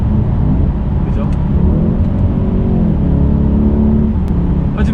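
Mercedes-AMG E63S 4Matic engine pulling hard under steady acceleration, loud and close throughout with rising revs and brief dips at quick gear shifts, while a voice talks over it.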